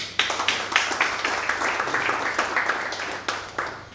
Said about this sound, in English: I want to applaud him for that.